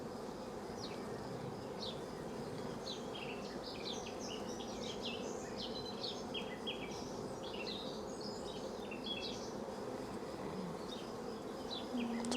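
Honeybees buzz steadily around an opened Warré hive, a continuous, moderately close hum with scattered higher whines of individual bees passing, plus faint outdoor background and no talking.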